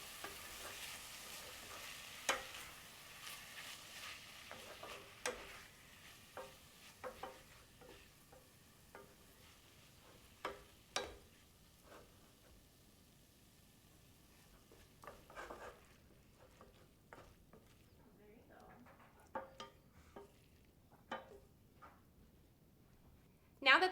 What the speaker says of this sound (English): Now you're going to stir and saute until the turkey is browned.